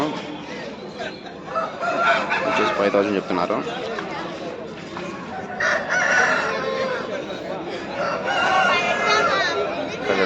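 Roosters crow and chickens cluck among cross-breed and native fowl at the busy Pileru weekly market, a loud, continuous jumble of calls close by under steady chatter and talking from traders and buyers.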